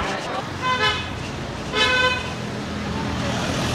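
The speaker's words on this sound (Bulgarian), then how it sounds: "Изпреварва и свири." Car horn toots twice in busy Da Nang street traffic as a vehicle overtakes, two short honks about a second apart over a steady roar of engines and road noise.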